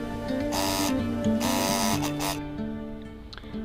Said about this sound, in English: We'll make a straight stitch over here.